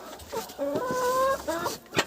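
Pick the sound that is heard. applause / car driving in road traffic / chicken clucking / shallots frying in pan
chicken clucking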